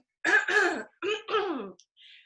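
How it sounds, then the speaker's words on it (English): Several rough throat-clearing bursts in quick succession, close and fairly loud, followed by a faint short rasp. "I'm going to be probably clearing my throat 500 times tonight."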